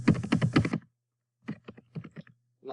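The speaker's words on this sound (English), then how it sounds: "So I'll hit enter and start typing in line 1 of all the items you designed." Computer keys clatter in two short bursts, a quick run of close, crisp taps, a pause, then a sparser handful of clicks, all nearby and moderately loud.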